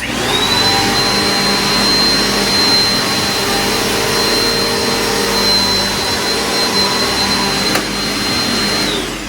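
A Eureka Powerspeed upright bagless vacuum cleaner runs steadily and loudly up close while picking up crumbs, its motor giving a constant whine and airy roar for the whole stretch, with no talking.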